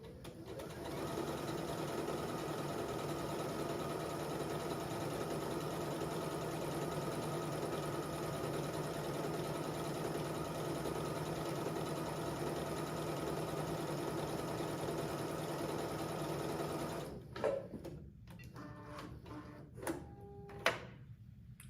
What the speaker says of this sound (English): I'm gonna lower the presser foot and start stitching.